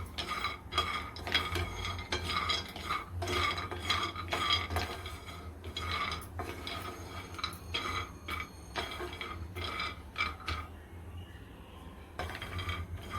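Almonds being dry-roasted in a pan and stirred, a close, quiet, steady clatter of nuts rattling and scraping against the metal in uneven bursts, with no talking.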